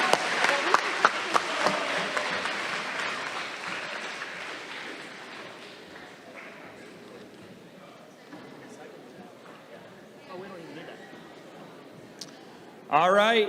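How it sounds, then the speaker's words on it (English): Audience applause at a middle school 8th grade awards ceremony: loud, dense clapping from a crowd that gradually thins and tapers over several seconds, ending with a brief voice. "One more round of applause"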